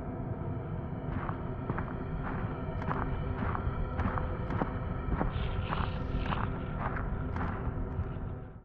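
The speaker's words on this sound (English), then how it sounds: "The sound of footsteps outside." Footsteps pace slowly outside a building in the horror game Darkwood, a series of evenly spaced soft thuds over a low, dark ambient drone.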